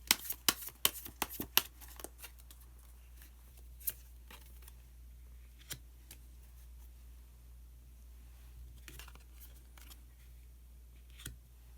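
Tarot cards are shuffled and drawn on a table: a flurry of soft, crisp card flicks at first, then scattered faint slaps and rustles in a quiet room.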